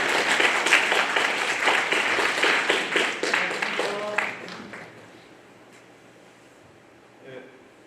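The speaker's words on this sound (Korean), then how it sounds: "큰 박수로 맞아주시기 바랍니다" Audience at a school admissions information session for a practical music department applauds to welcome the principal to the stage, with dense, steady clapping from a crowd that fades out after about four seconds, leaving quiet room tone and a faint murmur.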